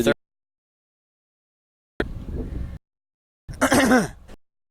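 At a school baseball game, two short, throaty bursts a moment apart, a rough cough or throat-clearing followed by a louder, harsher cough, close to the listener with silence between.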